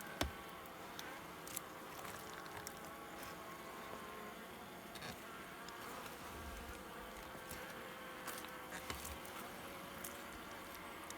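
A steady, dense buzz of many bees at wild honey collection in Polesia fills the whole stretch, continuous and close, with occasional brief knocks and rustles.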